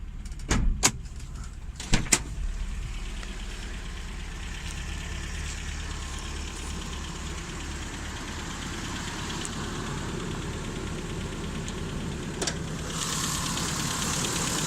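1980s Toyota Hilux fourth-generation 4x4 pickup with a 22RE engine idling steadily, a low continuous rumble with a few sharp clunks near the start, like a door or hood, and no talking.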